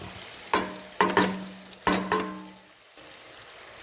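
Tomatoes frying for mutton biryani get stirred in a pan, with a steady sizzle broken by several sharp scrapes and clacks of the spoon against the metal, then the noise drops to a quiet hiss near the end.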